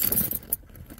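A set of car keys jangles briefly in a hand, a bright metallic rattle that fades after a moment in a quiet garage-like space.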